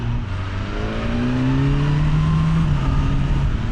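A 2025 BMW S1000R naked motorcycle engine drones steadily while riding, its pitch rising smoothly through the gears under loud wind rush, close and continuous.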